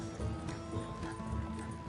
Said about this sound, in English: Slow down, you'll burn out the horses.